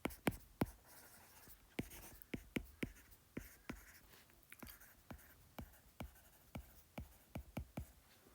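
Chalk or pen strokes on a board during a physics lesson on wave harmonics: quick, irregular taps and scratches in clusters, close and quiet, with no voice over them.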